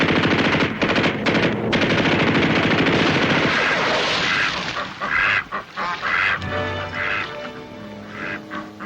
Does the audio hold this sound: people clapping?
no